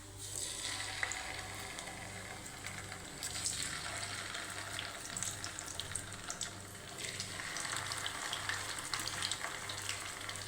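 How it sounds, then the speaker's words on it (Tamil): Fish frying in hot oil in a nonstick pan, a steady crackling sizzle throughout with some watery clatter, close and fairly even in level, no talk. "இனி இதை நான் இப்போ எண்ணெய் வந்து பொரிக்க ஒரு நான்ஸ்டிக் சட்டியில் தான் வச்சுருக்கேன்."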